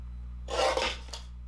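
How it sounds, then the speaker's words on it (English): A mini paper trimmer blade slides through a cardstock panel in one short, close rasping cut lasting under a second, with a slight hitch midway, over a faint steady hum. "I'm just going to grab my little mini trimmer here and we're going to cut that down."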